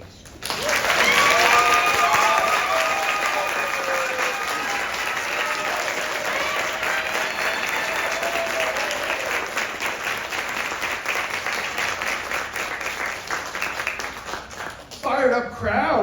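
An audience at a book launch in Cambridge, Massachusetts, breaks into sustained, loud applause with cheering for about fourteen seconds, then fades as a voice begins to speak.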